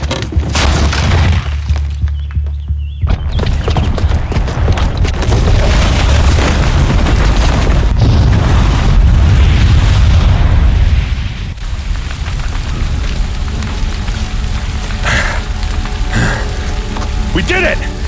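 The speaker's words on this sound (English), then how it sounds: "Because the booby trap on the bomb downstairs is gonna get set off." A booby-trapped bomb goes off in Horizon Zero Dawn, a loud deep boom followed by a long roar of rumbling blast and falling debris that stays heavy throughout, with crackles and bursts on top.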